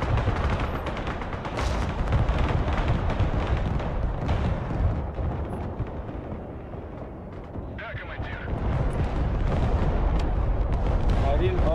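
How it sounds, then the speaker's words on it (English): A salvo of rockets launched in the Broken Arrow military strategy game, dense rumbling booms and rolling blasts piling over one another in a continuous, heavy barrage, with a brief lull before firing resumes. "I'm firing a row of more rockets right here"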